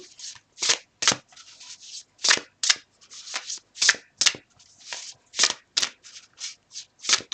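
A deck of oracle cards is shuffled by hand in quick, rhythmic riffles, with about twenty crisp bursts close up and no talk.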